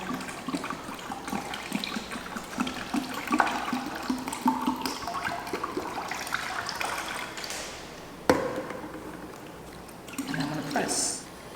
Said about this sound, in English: I'm just pouring and pouring and pouring.